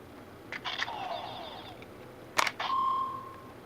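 Electronic beeps and chirps from a Gokaiger Morpher toy as a key is pulled out, with short clicks, a sweeping tone and a sustained beep in two quick bursts, moderately close and with no talking.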